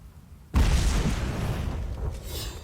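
Grenade explosion in the video game Fable III: a sudden deep boom that swells into a long rumbling roar with crackling debris, loud and sustained with no speech over it.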